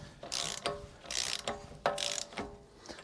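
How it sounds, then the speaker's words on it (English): An axle nut is run down on a 510 hp Mercedes V12 with a hand ratchet, giving a steady series of close, crisp clicking strokes in a quiet workshop, without speech. "I'm getting the axle nut on"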